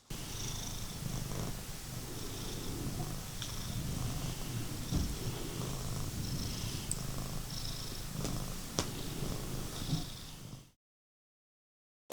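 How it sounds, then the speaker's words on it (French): A cat purrs close by in a steady, continuous rhythm of soft rumbling breaths, with faint sniffs or snorts now and then, heard alone without any talking before the sound cuts out near the end. "Je crois qu'on a le chat de mon frère qui squatte un petit peu notre lit."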